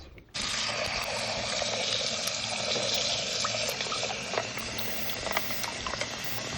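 Tap water gushes steadily over cooked macaroni sitting in an ice bath, a loud, continuous splashing rush that starts abruptly and keeps going without pause.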